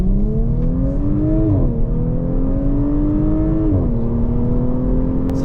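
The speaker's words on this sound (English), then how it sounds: "I don't know if the microphone will pick up the pops and crackles, but it does it like constantly when you let off the gas." A 2023 Audi B9 S5 Coupe engine drones steadily and loudly with two brief rev rises and dips, the exhaust note sustained throughout with no voices; the pops and crackles on lift-off are not clearly distinct.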